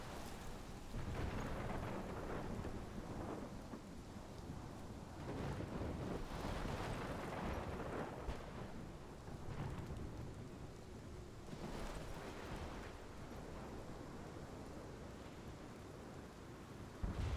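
Thunderstorm in the video game Life is Strange, steady heavy rain and wind with rolling thunder swelling and fading throughout, fairly quiet, no voices.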